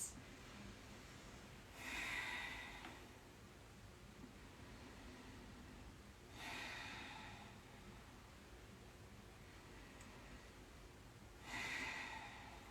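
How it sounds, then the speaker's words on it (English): Deep, slow breaths during a seated yoga stretch on a floor, three long audible exhales spaced several seconds apart, soft and close against a quiet background hiss. "Several deep breaths."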